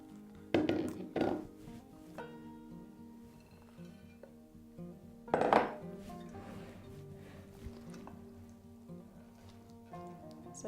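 Mayonnaise and onion-dip ingredients are stirred together in a deep bowl, producing a few sharp utensil knocks and clinks against the bowl, with long quiet gaps between them.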